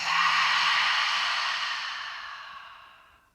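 A long, breathy exhale through the mouth during a yoga breathing exercise, close and soft, fading gradually to silence over about three seconds with no speech.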